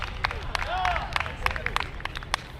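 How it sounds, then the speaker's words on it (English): Applause from an open-air crowd at a Hawaiian liberation rally at a bandstand, steady clapping with scattered claps and murmured voices under it, fairly soft and distant. "Big round of applause for Ken."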